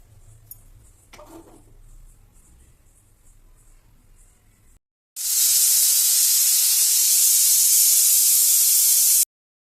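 A pressure cooker on a gas stove cooking menthya bath, with a few seconds of faint kitchen noise before a loud, steady hiss of escaping steam that runs for about four seconds and cuts off.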